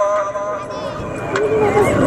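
A horse neighs at an outdoor tent pegging event, a loud whinny rising over steady crowd babble and voices close by.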